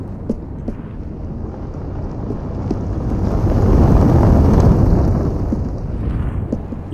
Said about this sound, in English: The yellow lines display the early reflection paths of the fire sounds to the player inside of the warehouse.